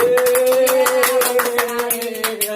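Students in an Indonesian classroom applaud a classmate named Lukman, giving a short burst of scattered hand claps over a steady tonal hum.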